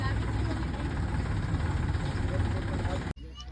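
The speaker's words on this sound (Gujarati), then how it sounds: "આપણું ટ્રેક્ટર આવે છે અમારો ટેપ લઈ," Tractor engine running at a crowded groundnut procurement yard, a steady low diesel rumble continuing throughout and cutting off abruptly near the end.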